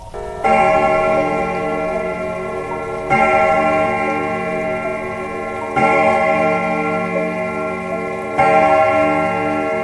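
A clock chimes four times in slow, even succession, each rich metallic strike ringing out and sustaining into the next, loud and close.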